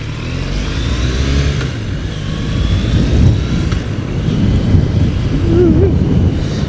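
Triumph Bonneville motorcycle engine rumbling steadily while riding through Tokyo streets on hot pavement, a continuous low throb with wind noise and rising revs, loud and close with no talking.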